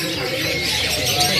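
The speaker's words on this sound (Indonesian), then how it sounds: "Juga sama untuk stok kenari AF gacorannya" Canary chirps and squawks fill a shop selling stocked canaries, a busy, continuous chorus of many birds close by, with a faint voice mixed underneath.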